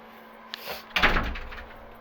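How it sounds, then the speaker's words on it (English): A house door is pushed shut nearby: a soft creak and rustle, then a firm thud of the door meeting the frame with a short rattle trailing off. "So let me close the door before the cats run out."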